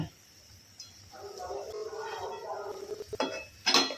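A spoon scrapes and clinks in a pan while crushed ginger and chopped cashews are stirred over low heat for a sweet dish, making soft close scraping with a few sharp metallic taps near the end.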